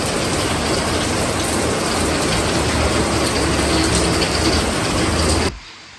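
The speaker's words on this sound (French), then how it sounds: "là je suis en train d'entendre qu'il pleut des cordes" Dense, steady downpour roaring across the whole clip, a constant wash of hiss and patter that cuts off abruptly near the end.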